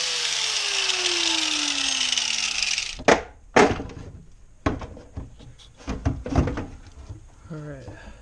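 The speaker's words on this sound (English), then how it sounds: "that bottom transmission line is rusted solid into the radiator, so we're just gonna hack it off real quick" A rusted-solid transmission line is hacked off a C4 Corvette radiator, giving a run of sharp metallic clanks and scraping bangs at irregular intervals after a steady hum of the shop environment.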